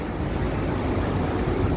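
Steady wind rushes around a seaside view building, a continuous broadband roar buffeting the microphone with no voices.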